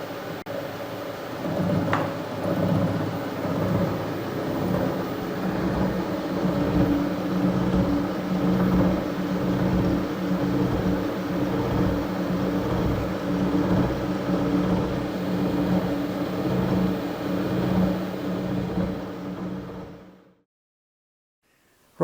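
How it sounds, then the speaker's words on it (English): A serviced Harrison universal mill runs steadily with its spindle turned up to about 65 RPM, giving a low, even mechanical hum with a faint rhythmic pulse that carries on before cutting out abruptly near the end. "You can hear how quiet that machine is now. I've just sped the spindle up a little bit."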